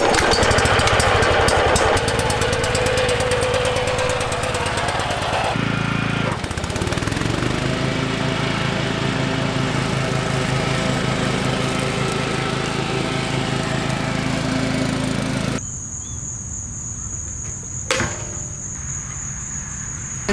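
A lawn mower engine runs steadily after being started on choke, a loud continuous drone that drops to a lower, quieter idle near the end, with a brief clank.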